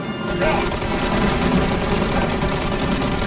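Sustained, loud automatic gunfire in Mafia Definitive Edition, a dense continuous fusillade of rapid shots filling the whole stretch, with shouting voices mixed in.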